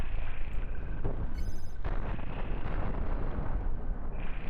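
Cannon fire slamming into missiles in the space combat game Cosmoteer, a continuous roar of layered booms and rumbling blasts that stays loud throughout, with no talking.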